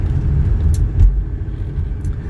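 A 1985 Mercedes 300TD wagon accelerates on the Georgia 400 highway, a loud, steady low engine and road rumble heard from inside the car.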